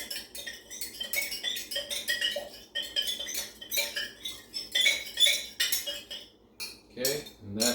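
A utensil clinks and scrapes rhythmically against a container while stirring sodium carbonate solution, producing fast, bright metallic taps close by, with a brief voice near the end.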